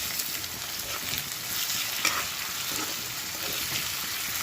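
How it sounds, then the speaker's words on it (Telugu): Chicken for pepper chicken fry sizzling in hot oil, a dense and steady frying hiss close up, with a faint stir or scrape partway through and no voices. "ఒక 3 minutes ఆయిల్లో వేయించుకోవాలి"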